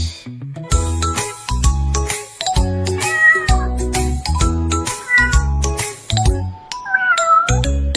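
Cartoonish sung cat meows ring out over a bouncy children's song with chiming bells and bass, several meows repeating in rhythm, loud and close.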